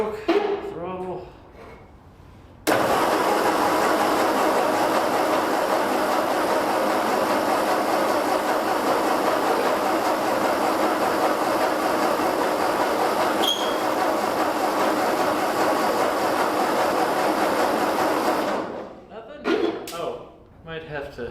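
An old, long-neglected Ford tractor engine cranks and catches after a short burst of talk, then runs steadily and loudly at close range for about fifteen seconds before cutting out, with voices at the start and end.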